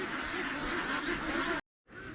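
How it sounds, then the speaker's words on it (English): Ducks quack loudly and continuously on a duck transport truck, a dense chorus of many birds close by that cuts out abruptly for a moment before resuming. "We have encountered a duck transport truck."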